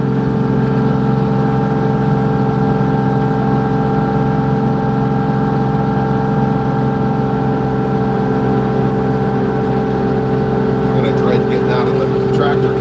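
A Kubota LX 2620 HSDC compact tractor runs steadily while plowing snow, its engine drone loud and constant with strong wind noise throughout.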